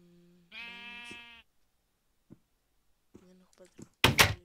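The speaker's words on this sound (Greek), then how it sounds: "Γεια σου πρόβατο." Sheep bleats in a survival video game, a strong wavering call near the start, followed by faint scattered clicks and brief bursts of game sounds, with a louder noisy hit at the end.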